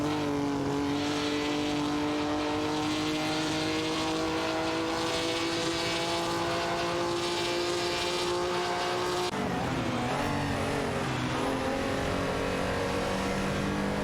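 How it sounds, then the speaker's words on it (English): Race cars in an AI racing video game whine with a steady engine drone that climbs slowly in pitch, then drops sharply and shifts near the end. "Racing car video game."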